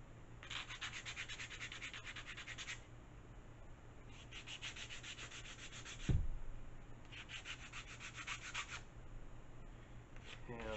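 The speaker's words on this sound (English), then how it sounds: "So, start by breaking loose the wing joiner. We want to sand this off nice and clean." Hand sanding of an Evo F5K wing joiner on a model glider wing, heard as three long, steady bursts of close rasping strokes separated by pauses, with a brief knock in the middle.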